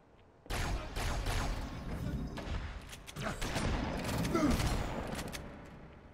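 Rapid gunfire in the game Halo 2 Anniversary, a sustained burst of shots that starts abruptly and carries on loudly for several seconds, mixed with mechanical clanks and creaks.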